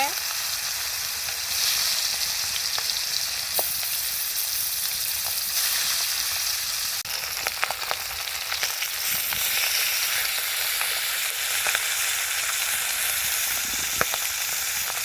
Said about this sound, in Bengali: মাছ ভাজা শেষ নামে নেই